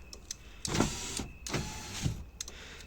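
The repaired power window motor in a door of a Renault Megane 2 whirs in a few short, faint electric runs with brief pauses between, close up in a quiet space.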